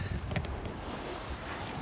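A sailboat runs through strong waves at evening, with steady rushing wind buffeting the microphone and the broad wash of water against the hull, a dense, continuous roar.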